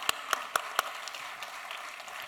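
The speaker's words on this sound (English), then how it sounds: "Can we give him a round of applause for that?" An audience at a radio show launch event claps: a few sharp, distinct claps ring out first, then a softer scattered patter trails away.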